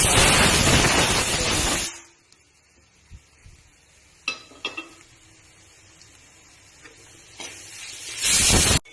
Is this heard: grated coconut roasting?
yes